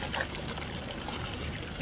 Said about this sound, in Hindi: इसमें अभी थोड़ा सा पानी करीबन आधा लीटर पानी डाल दिया